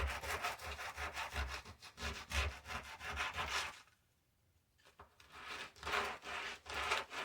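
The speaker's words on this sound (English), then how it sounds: "Now I'm going to sand the edges of this down a little bit with some hand sandpaper." Hand sandpaper rubbing along the edges of a wooden snowman cutout, close rhythmic back-and-forth strokes, with a brief pause midway before the scraping resumes.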